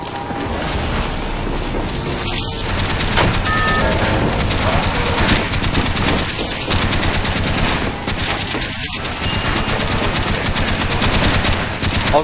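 Rapid automatic gunfire in Call of Duty zombies on the Kino der Toten map, loud and close, rattling on almost without a break, with brief game sound effects over the shooting.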